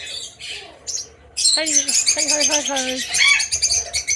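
Parakeets and doves in a bird sanctuary aviary call at close range, with quiet chirps at first, then loud, harsh squawking and warbling chatter that goes on almost nonstop, while a person speaks a brief word.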